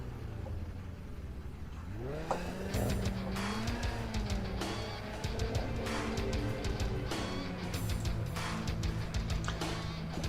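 A Nissan 300ZX and a Suzuki Cappuccino race on a mountain touge course in a video game. Engines rise and fall through gear changes, with bursts of tire squeal and skidding, loud and close throughout.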